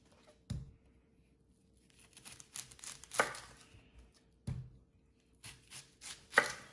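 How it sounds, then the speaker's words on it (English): Knife slicing an onion on a cutting board: a few sharp, separate cuts and thuds spaced apart, with soft rustling of onion skin in between, close and fairly quiet. "Next, I'll show you how to slice an onion."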